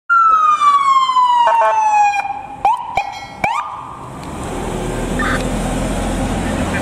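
A loud electronic siren from a toy ambulance wails and falls in pitch, breaks off with a few clicks, then fades into hiss and low background noise.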